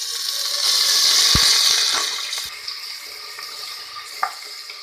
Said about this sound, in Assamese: ইয়াত মই এই পিঁয়াজখিনি দি দিম